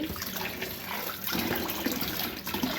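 Okra pods are rinsed under a running kitchen tap, a steady splashing stream of water that swells louder partway through and continues without any talking.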